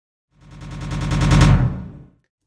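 A Linn drum kit sample retriggered from the same start point in a sampler, piling up into a rapid machine-gun-like burst that swells and then fades over about two seconds, with no voices.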